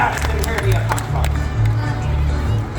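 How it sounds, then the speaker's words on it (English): An audience on the Disney Fantasy cruise ship applauds during the Pirate Night show: crowd clapping and cheering over a steady background, with a host's voice talking across the applause. "Give her a round of applause, everyone."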